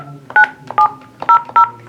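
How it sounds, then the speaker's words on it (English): Telephone keypad tones ring out loud and clear as a number is dialed and the pound key pressed, four crisp dual-tone beeps in an uneven rhythm. "if you don't push the pound key after dialing a phone number"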